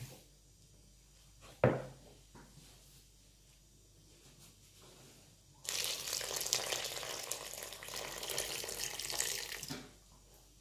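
Warm water runs from a kitchen tap for mixing samosa dough, a steady splashing stream lasting several seconds after a brief knock and near silence.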